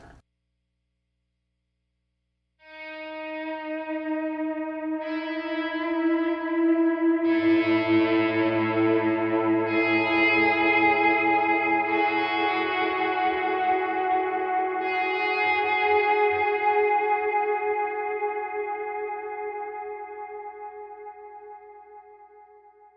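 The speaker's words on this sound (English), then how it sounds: "So we're going to go back to our swell tone with the washy delay" Electric guitar notes swell in slowly and sustain, layered with washy, echoing delay that builds into a dense, ringing wash before gradually thinning.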